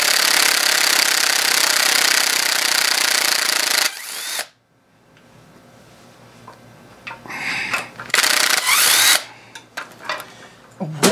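A battery impact wrench hammers loudly on a Yamaha 15 hp or Tohatsu 18 hp outboard motor during an impeller change, with a long steady burst, a pause, then several short choppy bursts.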